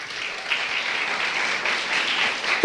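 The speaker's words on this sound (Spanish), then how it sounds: "Un aplauso para Andrés." Steady applause from a church congregation greets a participant during a sermon, a dense, even wash of clapping with no talk over it.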